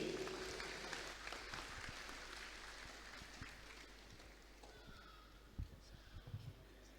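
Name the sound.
applause at a graduation ceremony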